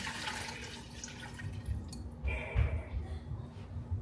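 Water splashing and gurgling as it pours into a pot from a bowl, about two cups, close and fairly quiet, with a few drips and sloshes.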